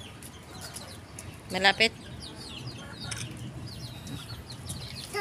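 A five-month-old Kanawayon gamefowl gives a couple of short, close clucks in the middle of an otherwise quiet outdoor stretch, with soft background bird calls and someone speaking briefly.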